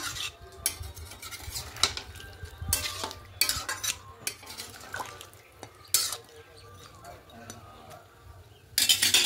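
Water going into spicy chicken curry with potatoes in a pan, close splashing and sizzling with irregular clinks and scrapes of a spoon against the pan, at moderate loudness.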